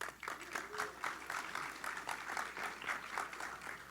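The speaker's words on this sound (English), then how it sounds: "So give yourselves a round of applause." A conference audience at React Miami 2024 gives a round of applause, rhythmic clapping at a moderate distance and fairly soft, with faint voices mixed in underneath.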